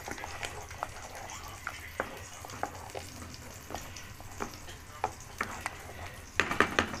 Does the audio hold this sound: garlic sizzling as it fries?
yes